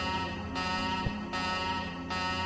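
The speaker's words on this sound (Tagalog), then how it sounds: "klaxons blare" Alarm klaxons blare in the video game Shadowrun Dragonfall Director's Cut, a harsh, loud buzzing tone that pulses on and off in repeated blasts over a steady droning hum.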